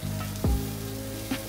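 Onions and potatoes frying in butter in a pan, a steady sizzle with a low hum and a brief thump as the mixture is stirred partway through.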